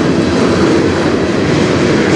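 A train rolls past on the Strathroy Subdivision with a loud, continuous, close rumble and the steady roar of wheels on rail.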